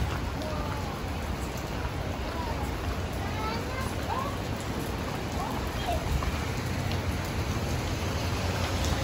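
Steady rain pours down outdoors in Singapore as a continuous, loud hiss of drops, with faint bird-like chirps and voices mixed in.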